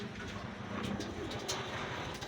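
Racing pigeons back home after a derby race coo steadily and softly nearby, with low, rolling calls repeating throughout against a faint background hum.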